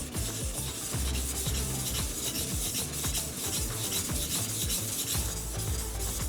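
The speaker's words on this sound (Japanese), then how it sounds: "この指置く位置ずらしながら研ぐのが大事になってきます。" A single-edged Japanese fish knife is ground back and forth on a whetstone in quick, regular rasping strokes, close and steady, with no talking.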